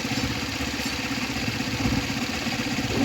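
Rusi Flash 150X motorcycle idling with its cooling fan running, a steady close low-mid engine rumble with even clattery pulsing throughout, no talk over it.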